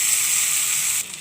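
Close, steady sizzle of tomato and fritter mix sautéing in pan oil with coriander leaves, dropping abruptly quieter near the end, no voices.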